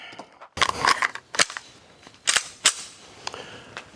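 Pistol shots from a 226 fired at a target on an indoor training setup, about eight sharp, close cracks in loose pairs and singles spread across a few seconds, with no talk.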